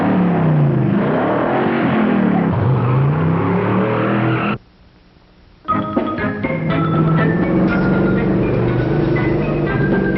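A car engine in a colorized old film, driving with rising and falling revs and loud, steady, close motor noise, a brief gap of near silence, then more driving sound with music-like tones.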